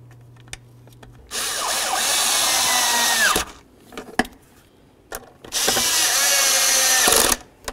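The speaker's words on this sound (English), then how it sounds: "Start in both of your bolts, snug them up." A power tool drives the tail light bolts on a 1992-2000 Chevy Tahoe in two loud bursts of a few seconds each, with clicks and handling noises during the short pauses between them.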